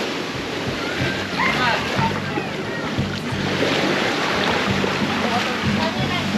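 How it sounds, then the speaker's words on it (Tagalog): Continuous loud rush of rising sea waves and wind at a beach in Sual, steady surf roaring throughout with a low engine-like hum underneath. "tumataas na yung alon"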